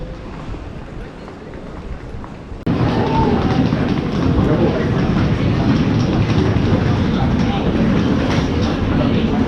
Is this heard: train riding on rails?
yes